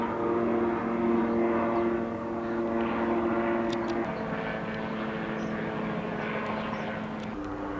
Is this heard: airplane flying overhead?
yes